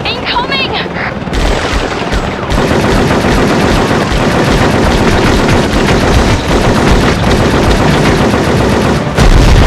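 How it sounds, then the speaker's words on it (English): Machine gun fire in the PS2 game Cold Winter: loud, sustained bursts of rapid automatic shots that fill the whole stretch, with heavy booming impacts mixed in. "Your weapons are useless against it! Use the machine guns!"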